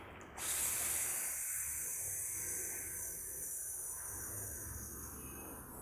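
A steady, breathy hiss of air pushed out through the mouth during a relaxation breathing exercise, starting abruptly and holding nearly constant for several seconds with no talking.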